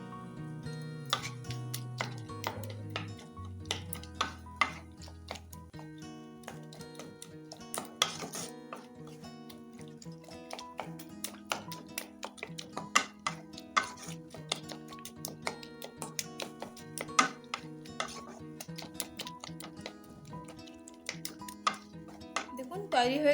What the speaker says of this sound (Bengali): দিয়ে একসঙ্গে মাখিয়ে আলুগুলোকে একটু এরকম খুন্তি দিয়ে মেখে দিচ্ছি।